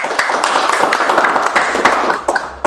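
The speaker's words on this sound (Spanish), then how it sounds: "les pido por favor recibirle con un aplauso al ingeniero Miller Blanco" Scattered, uneven clapping rises briefly from the audience at an ASIS Quito chapter talk as an engineer is welcomed, sharp individual claps standing out rather than forming a full roar.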